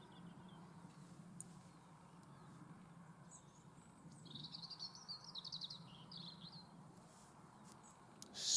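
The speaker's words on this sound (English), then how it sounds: "With the chorus of the birds in the background." Birds chirp and tweet at an outdoor allotment in Hanley. The chorus sounds distant and faint over a low rumble, with a brief cluster of calls in the middle.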